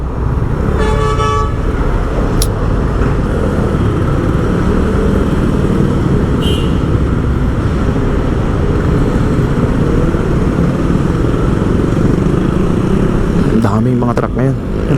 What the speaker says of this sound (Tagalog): Daming mga truck ngayon, bumababa tsaka umaakyat.